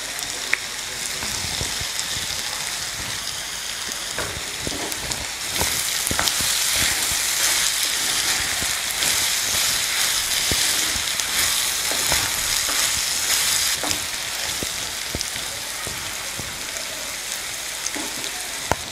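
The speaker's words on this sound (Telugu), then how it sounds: "వంకాయలు మగ్గుతున్నాయి కదా" Brinjal pieces sprinkled with salt frying and being stirred in a pan for a South Indian brinjal mutton curry: a continuous, close sizzle with scraping stir strokes that swells louder through the middle and holds for nearly twenty seconds.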